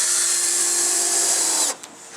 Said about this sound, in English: going to screw the whole thing on for you